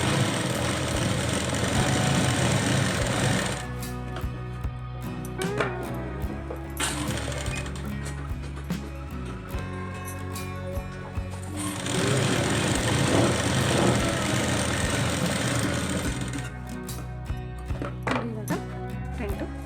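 A sewing machine stitches a plain blouse in straight seams, running in steady bursts with brief pauses between them, close and fairly loud against a low room hum.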